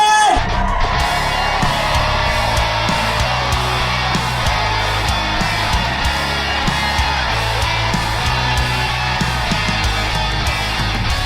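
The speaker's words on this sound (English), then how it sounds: "Give it up for Gary Robinson" A comedy club audience at the Brea Improv cheers, whoops and yells loudly as a comedian is introduced, forming a dense, continuous roar of crowd noise that holds steady throughout.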